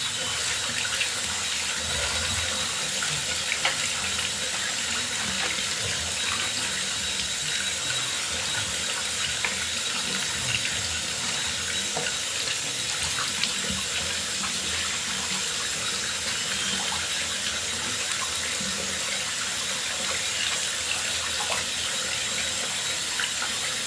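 A tap runs steadily as hair dye is rinsed out, a constant hiss and splatter of water close by that carries on without pause, with no talk.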